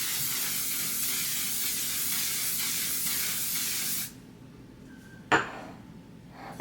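Milk Makeup setting spray hisses in one long continuous burst for about four seconds, loud and close, then stops abruptly, followed by a brief clatter and quiet room noise.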